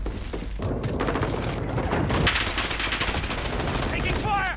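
Video game gunfire on a multiplayer server: rapid bursts of automatic weapon fire and sharp shots crackle in close succession, a heavy boom landing midway, with a player's voice briefly under the shooting.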